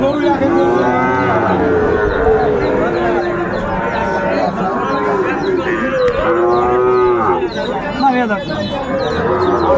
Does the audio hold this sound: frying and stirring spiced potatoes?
no